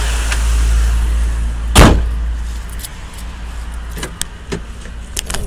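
A 2007 Ford Freestar cargo van engine starts with a brief rough burst, then settles into a steady low idle rumble. Light clicks and rattles come up close, and no one speaks.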